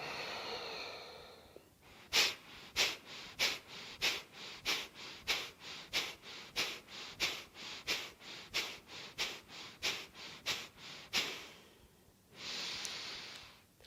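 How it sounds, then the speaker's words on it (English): Breathing during a yoga session on the crown chakra: a long run of quick, forceful, evenly spaced breaths, about two per second, then a longer drawn inhale near the end, close and fairly quiet, with no talking. "Breath in. Exhale."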